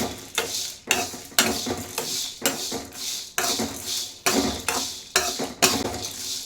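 Whole spices for sambar powder are dry-roasted in a pan and stirred without pause. A spoon scrapes and clatters against the metal in a steady rhythm of repeated strokes, close and fairly loud.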